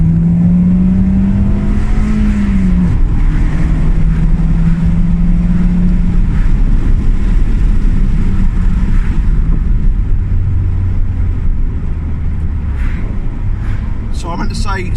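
A 123 BHP Ford Fiesta MK5 Zetec S pulls in gear on a straight, its engine and exhaust droning steadily with rising pitch under continuous in-car talk.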